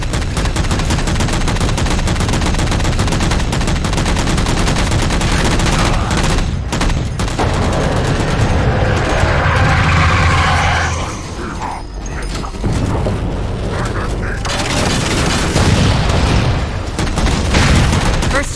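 Loud, dense Halo 4 gunfire aimed at jammers: rapid automatic bursts and booming impacts over a busy mechanical battle din, nearly continuous through the whole stretch with brief lulls, and voices occasionally heard under the shooting.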